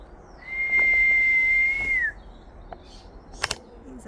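A single bird call rings out as a steady, sustained whistle lasting over a second, slightly falling at the end, followed by a few faint chirps against quiet outdoor background.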